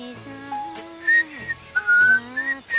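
A cartoon hedgehog from the animated series Smeshariki whistles a tune alone, a clear melody of several short rising and falling phrases with brief pauses between them.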